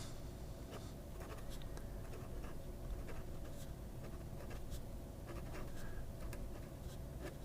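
A fountain pen with an extra fine nib writes in reverse across paper, giving a faint, continuous scratching broken by small ticks of pen strokes, quiet and close with no voices.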